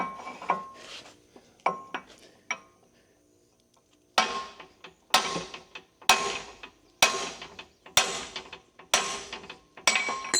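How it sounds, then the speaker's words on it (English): A sledgehammer strikes a steel excavator bucket being modified, sharp metallic clangs that ring briefly and arrive in a loose, irregular series, loud and close, with a short quiet gap before regular heavy blows resume. "I got my sledgehammer now."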